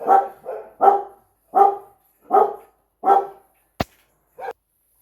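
A dog barks close by in a series of about eight sharp barks at a steady pace with short silent gaps, plus one sharp click near the end.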